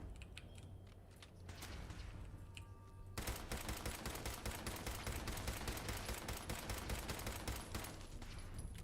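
Rapid sustained gunfire in Fallout 4, dozens of shots in a dense automatic burst that starts abruptly and keeps hammering steadily at a loud level until the end, over a low game rumble.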